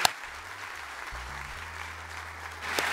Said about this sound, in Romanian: Uitați cum se aplaudă.